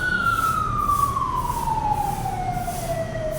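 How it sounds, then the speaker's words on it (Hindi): An ambulance siren passes by, one long steady wail sliding downward in pitch as it moves away, loud and continuous over the low rumble of road traffic, with no talk. "एम्बुलेंस थी"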